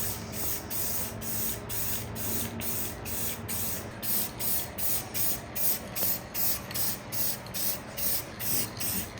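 A rattle can sprays glossy clear coat onto a Toyota 4Runner fender in a steady hiss broken into rapid rhythmic pulses as the nozzle is pressed repeatedly, close and fairly loud, with no voices.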